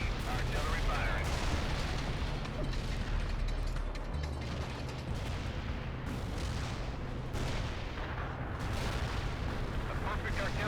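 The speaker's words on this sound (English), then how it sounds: "Coordinates received. Artillery firing." Artillery batteries fire in the World in Conflict strategy game, producing repeated heavy booms and mechanical clanking under continuous battle rumble, with radio voices speaking over the barrage.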